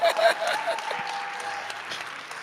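A church congregation at a Catholic service bursts into applause to acclaim the Lord, a dense wash of clapping that swells at first and then fades.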